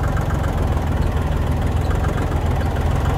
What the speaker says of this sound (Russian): Давайте посмотрим работу погрузчика.